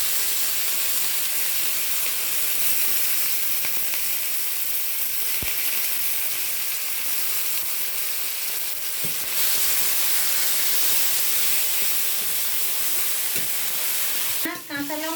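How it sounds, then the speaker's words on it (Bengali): Grated onion, green chili and chopped tomato sauté in a pan for a spicy fish curry, giving a steady, loud, close sizzle and hiss with occasional stirring scrapes throughout, and a brief rattle of the spoon at the end. "কাঁচা লঙ্কা, টমেটো কুচি সুন্দর মতো কষানো হয়ে গেছে"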